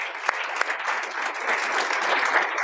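An audience at a labor forum claps steadily, dense and sustained applause with a few sharper individual claps, and no speech over it.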